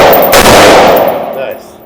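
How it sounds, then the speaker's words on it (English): An automatic gun firing at a shooting range, a loud close blast of rapid shots that rings out and decays over about a second. "First time shooting an automatic gun."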